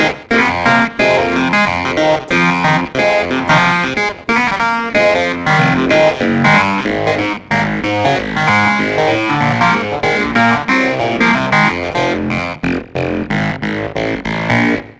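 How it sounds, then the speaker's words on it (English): A sampled keyboard plays sustained chords through a sweeping phaser effect, loud and continuous with rhythmic swirling modulation. "Let's put on some reverb or phaser."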